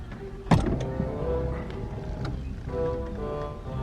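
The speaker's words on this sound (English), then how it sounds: "Just prime the fuel tank a couple times." A new fuel pump priming in a Mk3 VW Golf, a close electric whir starting with a sharp click and running steadily for a few seconds.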